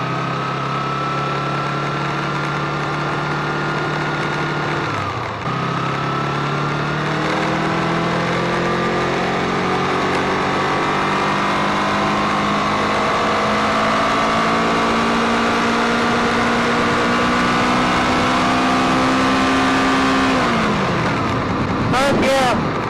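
A Kawasaki Ninja 250 motorcycle with a changed sprocket runs loud and close in second gear, its engine pitch climbing steadily as it accelerates, with a brief dip at a shift and a voice speaking over it.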